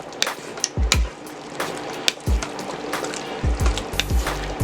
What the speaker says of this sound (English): Now I'm just going to simply add it to the pressure cooker. And we're going to stir that up in there real good.